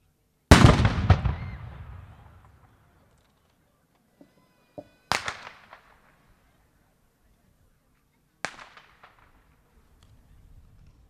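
Ceremonial salute from an 1848 four-pound cannon at an outdoor March 15 commemoration: three sharp, loud booming blasts several seconds apart, each with a rolling decay, separated by faint crowd noise.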